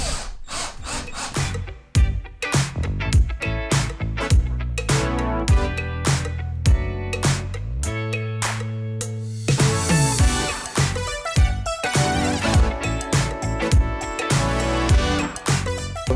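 A power drill drives screws into cheap wood in a studio, with repeated loud whirring bursts and brief pauses between them, close and clear with no talking.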